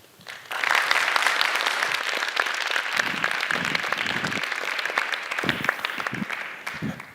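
Audience applause after a speaker is introduced for an evening lecture on football and geopolitics, a dense, steady wash of many hands clapping that swells quickly and holds for several seconds before thinning out.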